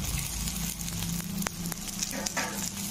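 Chopped tomatoes with turmeric and red chili powder sizzle steadily in hot oil in a pan, a continuous close frying hiss with occasional stirring scrapes and no talk.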